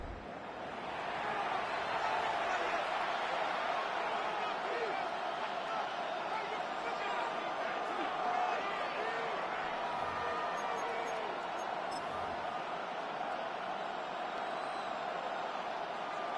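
A stadium crowd cheering in the Madden NFL football video game ahead of a big third down, a steady distant roar sustained throughout with a commentator speaking over it.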